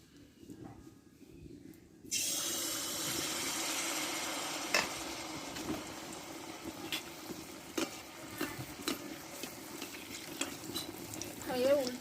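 Palm-fruit malpua batter hits hot oil and bursts into a loud, steady sizzle after a quieter start, with occasional utensil clinks over the constant frying crackle.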